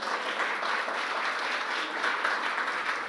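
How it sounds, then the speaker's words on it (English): Audience applause greets a retired vascular surgeon introduced at a medical mentorship and wellness panel, a steady wash of many hands clapping at even loudness throughout with no talk over it. "Big round of applause."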